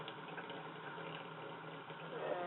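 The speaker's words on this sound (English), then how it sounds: "you're going to want some water running to the side" Water running steadily from a tap at the side of a sink, a faint continuous hiss and gurgle with no break.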